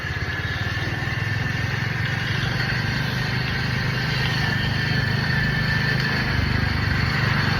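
Motorcycle engine droning steadily and close throughout an early-morning road ride on a holiday, with a constant low rumble and wind roar and no talk.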